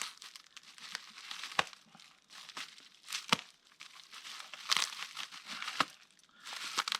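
Plastic packaging is crinkled and torn open around new tree-climbing gear. Irregular crackling bursts come close and fairly loud, with sharp ripping snaps scattered through the rustling.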